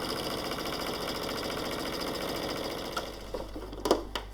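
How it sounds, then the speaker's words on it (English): Sewing machine stitching stretched elastic onto a fabric frill: a close, rapid buzzing whir for about three seconds, then it stops and a few soft handling clicks and knocks follow. "I'm just going to stretch and sew."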